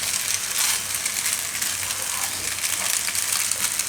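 Maggi noodles being stirred and fried in a pan for tandoori Maggi give off a continuous, close hiss and rustle with faint scraping, steady throughout and with no talking.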